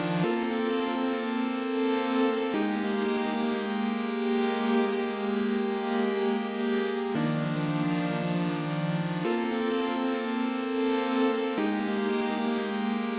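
Dry chiptune chords on a keyboard with no effects, sustained bright synth chords that shift to a new chord every two to four seconds, steady and fairly loud with no voices.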